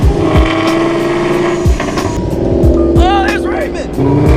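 A six-cylinder Ford Mustang drifting, its engine roaring loud and close with shifting revs and squealing tires throughout, while voices speak over the noise.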